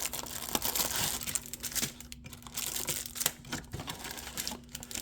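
Plastic-wrapped NFL trading card packs being torn open, giving steady close crinkling and crackling of wrapper plastic with a few sharper rips, no voices.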